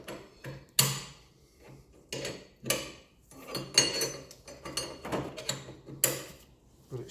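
Metal clanks and knocks of a hammer driving a greased poly bushing into an Audi TT eccentric mount, several sharp irregular strikes close up with quiet gaps between.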